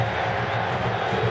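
A football stadium crowd at the 1988 Oklahoma State vs Nebraska game roars continuously, a dense, sustained wall of cheering with no pauses.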